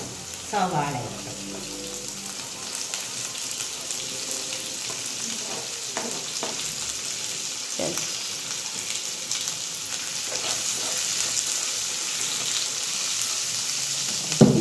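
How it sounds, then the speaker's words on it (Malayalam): Carrots sauté in a pan with salt, a steady loud sizzle running throughout with occasional spoon scrapes and stirs, a brief voice near the start. "നന്നായിട്ട് വഴറ്റുക ഉപ്പിട്ട് നല്ല നന്നായിട്ട്"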